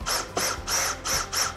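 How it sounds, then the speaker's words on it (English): A cordless power drill tightens bolts on a Berkley table, its whirring motor rising and falling in five steady pulses, loud and close with no talking. "For your next step, you're going to take your drill"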